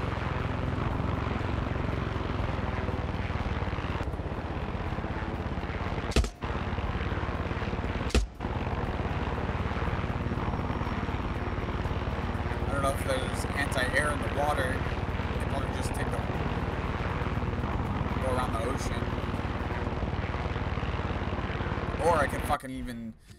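A helicopter flies in the video game Far Cry 6 with a continuous loud engine and rotor drone, broken by a couple of sharp cracks and some clattering bursts, and talk occurs over it.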